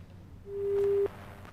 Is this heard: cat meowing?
no